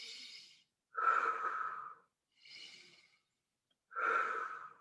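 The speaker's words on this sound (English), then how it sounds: "big deep breaths in through the nose, out through the mouth" Big deep audible breaths alternate in through the nose and out through the mouth, two slow cycles of close airy inhales followed by louder, fuller exhales with short silent gaps between.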